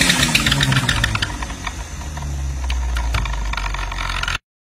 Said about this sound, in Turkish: Bas gaza bas, gaza bas, gaza bas.